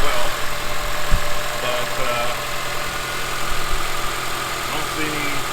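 A Honda 2.4-liter i-VTEC four-cylinder engine idles with a steady, even hum and light mechanical ticking, close by, while someone talks over it.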